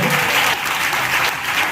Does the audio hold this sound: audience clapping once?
yes